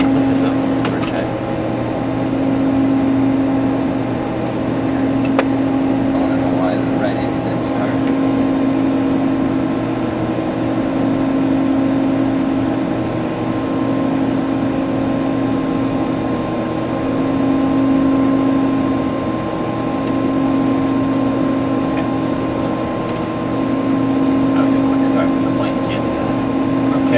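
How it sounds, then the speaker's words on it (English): A steady T-44A aircraft engine drone with a strong, even hum and a faint periodic pulsing, running continuously at close range. "Engine's all started up."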